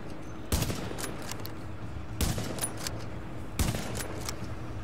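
Three bursts of rapid automatic gunfire in the video game The Division, each short volley spaced about a second and a half apart over a steady low game ambience, with no talk.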